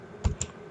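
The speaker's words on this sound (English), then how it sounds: "Now I'm going to type something like" A computer keyboard tapped three times in quick succession while numbers are entered. The soft, close clicks come in an uneven rhythm over a quiet background.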